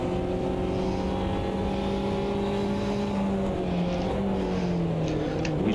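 DTM race car from the Automobilista 2 mod at Mugello, its engine droning steadily with rising harmonic whine as the turbo spools while the rear wheels spin up in third gear, loud and continuous throughout.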